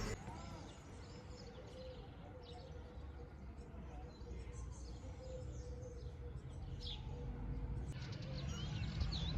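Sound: birds singing

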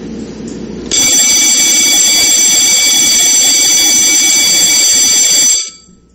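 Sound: electronic bell siren, like a school fire alarm bell

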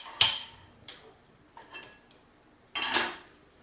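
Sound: pot being put on the stove

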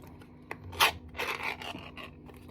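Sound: opening a tin of brie cheese

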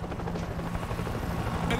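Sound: helicopter in World War Z video game

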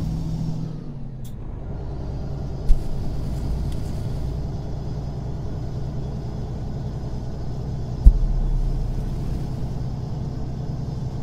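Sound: Western Star truck engine in American Truck Simulator video game

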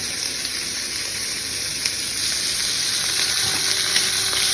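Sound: rosemary and garlic sizzling in pan for beef steak

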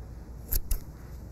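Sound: scissors cutting yarn bits of a pom-pom

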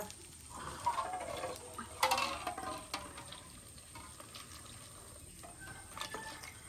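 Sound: water poured into flour

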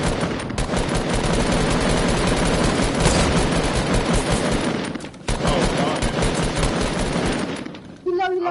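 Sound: gunfire in video game Fortnite

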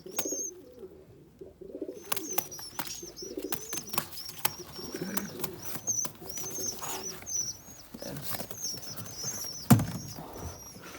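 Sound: pigeons on a balcony

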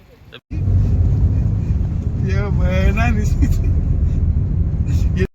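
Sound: car driving to Kalyan station

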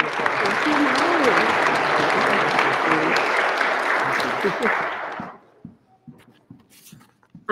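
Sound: audience applause at award ceremony

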